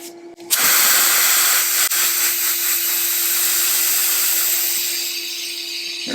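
Air pumped into a Subaru tire with the valve stem removed, a loud, close, steady rushing hiss that starts abruptly and holds for several seconds with a constant tonal whine underneath.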